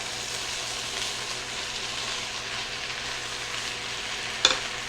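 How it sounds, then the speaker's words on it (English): Cabbage, sausage and potatoes sizzle steadily in a skillet as they are stirred, a constant close frying hiss with a single sharp utensil clink near the end. "Just keep moving it around until you get to the texture that you desire for your cabbage."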